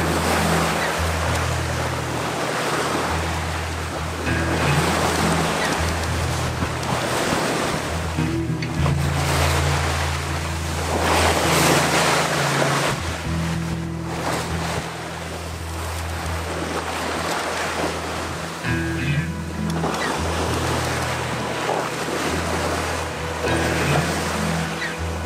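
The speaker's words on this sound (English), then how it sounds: "I think we've got like about 15 knots of wind" A sailboat beats to windward in about 15 knots of wind, with constant wind rush buffeting the microphone over steady waves and surf slapping the hull, and a low hum throughout.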